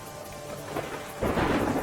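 Heavy monsoon rain pours down in Gujarat with a low rumble of thunder beneath it, the downpour swelling noticeably louder toward the end, steady and close with no voices.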